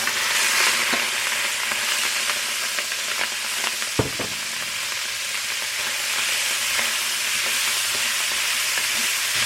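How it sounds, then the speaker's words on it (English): Shrimp sear in sunflower oil in a hot wok with a loud, steady crackling sizzle and one sharp utensil knock partway through. Nothing else is heard. "I'm going to add in a little bit of oil, and I'm just going to go ahead and add our shrimp."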